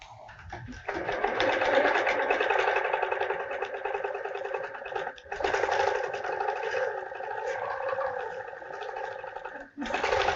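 Domestic sewing machine stitching free-motion spirals across a quilt with a 360 Wonderfoot, a steady close whir running almost continuously with two brief pauses.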